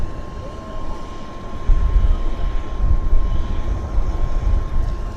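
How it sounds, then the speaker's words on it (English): A WestJet Encore Q400 turboprop airplane at Vancouver Airport, on approach or rolling, gives a broad, swelling rumble with a steady propeller tone from a moderate distance outdoors. "We got a Q400 now set up on the approach."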